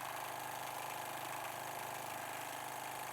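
A sewing machine running fast while quilting a leafy design gives off a faint, steady whirring hum. The sound is continuous and unbroken, with no voices over it.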